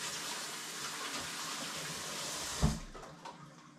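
Water runs steadily from a tap as hands are rinsed after handling brined kokanee salmon, a continuous broadband splash with a brief louder gush near the end before it eases off.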